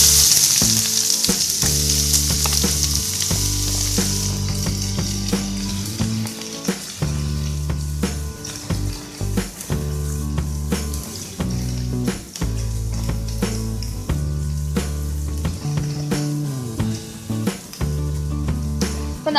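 Onions sizzle steadily in hot oil for a chicken kurma, a loud, continuous frying crackle running the whole time with background music over it.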